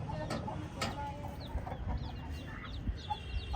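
Soft clucks and short chirpy chicken calls come close by over a low background hum, with a few faint sharper notes.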